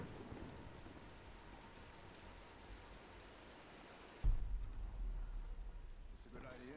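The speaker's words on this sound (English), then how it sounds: "Nah, let's wait out the storm." Rain pours steadily through a thunderstorm in the video game Tomb Raider (2013), and a loud thunderclap breaks partway through, its rumble rolling on and fading over the rainfall.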